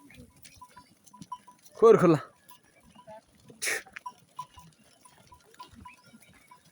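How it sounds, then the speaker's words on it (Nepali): Goats in a shed on a Nepali goat farm: one loud bleat, with a fainter call shortly after, over low shuffling and barn noise, while a person speaks briefly. "बाख्रा पालन यो हाम्रो बाख्रा पालन खोर धेरै छ बाख्रा"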